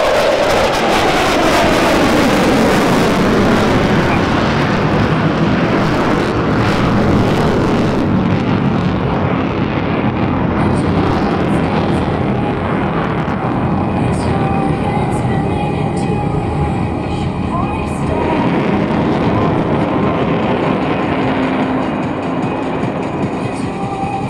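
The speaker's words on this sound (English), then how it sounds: "Watch closely as the aircraft pulls into the vertical and executes a full 360-degree aileron roll." F-22 Raptor fighter jet performing a demonstration at the 2021 Geneseo, New York air show: a loud, continuous jet roar rushes and shifts in pitch as the aircraft passes and maneuvers, with no talk over it.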